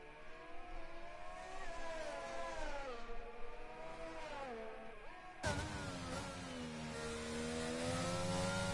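Formula 1 car engines race in the F1 22 video game at Saudi Arabia, with high whining revs that rise and fall through gear changes before a sudden louder engine note takes over.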